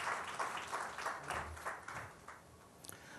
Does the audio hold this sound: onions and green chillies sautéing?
no